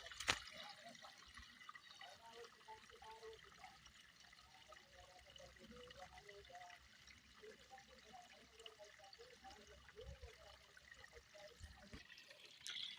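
Steady trickling and gurgling of irrigation water flowing into a farm field, fairly quiet and continuous throughout, with a sharp knock near the start and another near the end.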